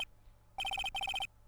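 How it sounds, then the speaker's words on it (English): Telephone ringing in a courtroom-drama video game: two clear electronic ring bursts, each a rapid warbling trill of about five pulses, following a brief tone, alone with no talk. "And now phones are ringing."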